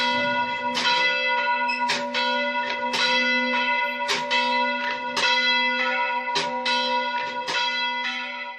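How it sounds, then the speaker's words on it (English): Church bells ring out from a damaged tower in Karakosh, struck in a steady, loud sequence of clanging peals with long ringing overtones between strikes. "church bells rang out from the damaged tower for the first time in years"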